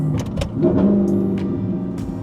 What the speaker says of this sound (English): Nice little village, ruining it with the loud exhaust.